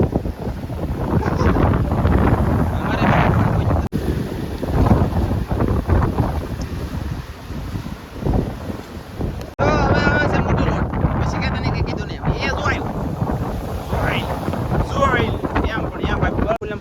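Strong wind roars and buffets the microphone over open water, steady and loud throughout with gusty bursts and a rushing, churning noise.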